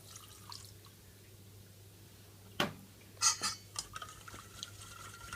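White wine poured into a bowl of beaten egg yolks for a sabayon: over a steady low kitchen hum, one sharp clink, then a few brief close splashy liquid bursts and light utensil taps, with no talking.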